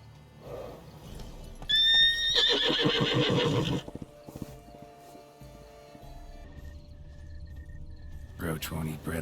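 A horse in The Witcher 3 video game gives a loud whinny, followed by hoof clopping and assorted game sounds, with some brief voice activity nearby.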